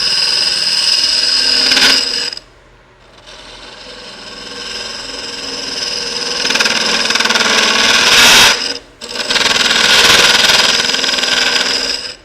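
A woodturning tool cuts end grain on a spinning lathe, a loud, harsh buzzing chatter in long sustained passes, broken by two short pauses where the tool lifts off the wood.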